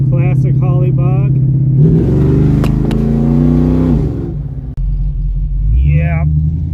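A car engine fitted with a Holley double pumper carburetor idles with a deep, loud rumble, revs up hard for about two seconds and then falls back, while people talk over it close by.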